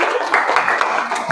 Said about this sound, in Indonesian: Tepuk tangan buat Rasif.